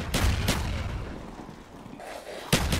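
Gunfire in Call of Duty Black Ops 3 Zombies, three loud separate shot blasts with a lingering rumble between them.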